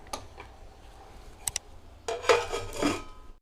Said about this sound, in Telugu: మళ్ళీ మూత పెట్టేస్తున్నాను.